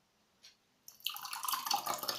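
A strawberry drink is poured into a glass: a faint drip first, then a bright, bubbling splash of liquid filling the glass, close and growing louder, with no talk.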